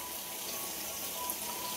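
Water running from a tap into a container for drinking water in a village home, a steady continuous hiss and splash heard alone at moderate level with no talk.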